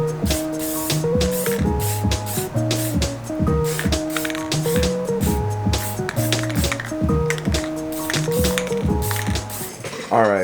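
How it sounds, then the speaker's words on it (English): Short hissing spray-can bursts repeat over rhythmic background music. "Got a more of a lemon yellow, so I'm gonna spray this now."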